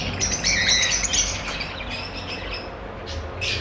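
Blue Fischer's lovebird splitino calling in a breeder's aviary, repeated shrill chirps and squawks at close range over a steady low background hum, with several other birds chattering around it.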